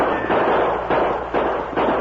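A rapid series of loud, sharp bangs, about five in quick succession, dense and booming like gunfire, returning fire at bank robbers in an old-time radio drama.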